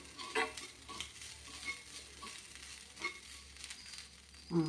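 Food sautéing in a pan while cooking paruppu vada mor kuzhambu, a soft steady sizzle with intermittent stirring scrapes and light utensil clinks, fairly quiet and close, with no one talking.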